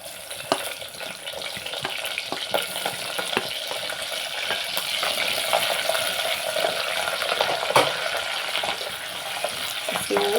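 Green chilli pieces fry with fenugreek seeds in hot oil for a fenugreek curry, a loud steady sizzle with scattered sharp pops and crackles throughout.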